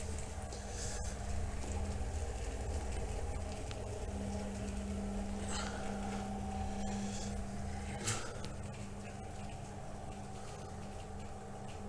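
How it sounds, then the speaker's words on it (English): A water pump lowered into a hole on a farm runs with a low, steady electric hum and faint tonal whine, heard at a distance with occasional small knocks and clicks. "Well, the pump's kicked in."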